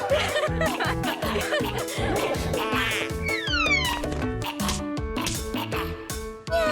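A cartoon cat meows in an animated children's show, its rising and falling cries cutting through loud, busy background music with rhythmic percussion and bright plucked notes.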